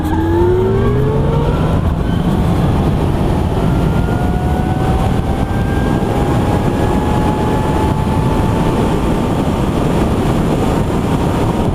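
A Zero DSR electric motorcycle accelerates on a forest road, its motor whine climbing steadily in pitch over loud, constant wind rush, with no engine note.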